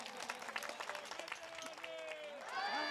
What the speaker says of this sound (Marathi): एकदा जोरात टाळ्या वाजवा सगळ्यांनी